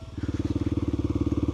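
Kawasaki KLX300 dirt bike engine idling or running steadily on a river outing, a close, loud single-cylinder thump with a fast, even pulsing rhythm throughout, no voices.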